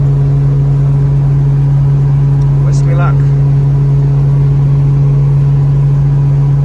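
A tuned all-wheel-drive car's engine drones loudly and steadily through a very short exhaust, heard from inside the car, while a driver speaks briefly over it.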